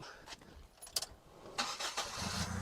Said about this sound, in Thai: เดี๋ยวเรามาดูในส่วนของห้องเครื่องแล้วก็ฟังเสียงเครื่องยนต์กันนะครับ